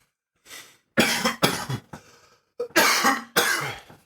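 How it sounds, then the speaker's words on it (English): Several dry, harsh coughs in quick bursts, close and loud, with short pauses between them and no talking. "It's the driest cough right now."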